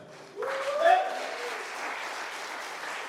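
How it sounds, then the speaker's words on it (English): Applause swells abruptly from a crowd at a Virginia 7th Congressional District candidate forum, peaking early then settling into a sustained, moderate clatter, with a voice rising briefly over the clapping. "Please give them all a round of applause."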